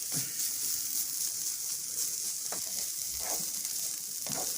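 Chopped onion sautéing in a pan, a steady hissing sizzle with occasional scraping stirs, fairly close and without voices.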